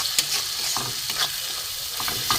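Masala of salt, cumin, coriander paste, turmeric, chili powder and grated ginger sizzles steadily in a pan over lowered heat for a Bengali fish curry, with a spoon or spatula scraping through it at irregular intervals; no one speaks.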